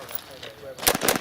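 A rifle or handgun fired at a shooting range in low light, a single sharp, loud report close by near the end of the clip, after a short stretch of quiet background.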